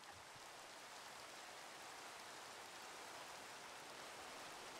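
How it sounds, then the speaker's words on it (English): Rain in the Minecraft video game plays as a soft, even hiss of falling drops that stays steady the whole time, quiet and far off, with nothing else heard over it. "It's raining."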